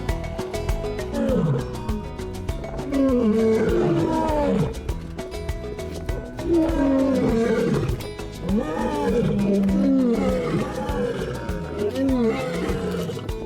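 An alpha male lion roars repeatedly in deep, grunting bursts, loud and close, with pauses between each series of calls.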